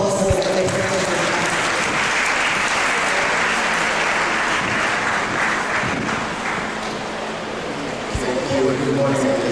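Audience at a campaign launch event in Ghana gives a long, steady round of applause, dense clapping filling the room, dipping slightly before a voice comes in at the end.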